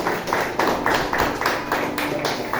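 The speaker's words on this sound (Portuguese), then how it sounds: "Palmas para Jesus." Church congregation clapping together in a steady rhythmic beat, roughly a clap every quarter second, fairly close and continuous with no talking over it.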